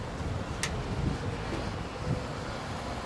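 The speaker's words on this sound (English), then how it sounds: "Wind's getting up." Wind gusts outdoors on a street in Benidorm, Spain, making a steady, broad rumbling whoosh across the microphone with a couple of faint clicks and no voices.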